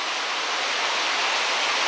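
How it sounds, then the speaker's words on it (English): Heavy rain pouring down outdoors in the Philippines, a steady dense hiss of downpour filling the scene without a break and with no one speaking. "it's pouring rain, man"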